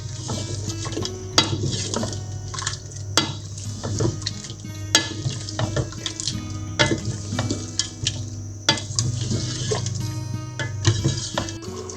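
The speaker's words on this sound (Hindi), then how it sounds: "साथ आलू की भी बुनाई कर लेते हैं" Potatoes stirred as they fry in a pot for aloo gosht, with steady sizzling and repeated close scrapes and clinks of a spoon against the metal, and no talking.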